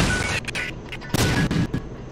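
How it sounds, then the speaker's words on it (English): A bomb blows open a wall in the video game The Binding of Isaac, giving a short loud boom followed by further crackling blasts, all packed into about two seconds. "Use a bomb to blow up that wall."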